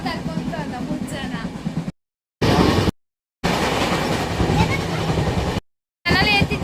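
A train bound for Hubballi rolls along with a steady rumbling clatter of wheels on track, loud and close, broken by abrupt cuts, with people talking over the noise.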